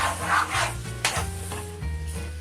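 Tomatoes cook down into a sauce in a pan for a venison goulash, with a soft sizzle under repeated scraping and stirring strokes, close and moderately loud.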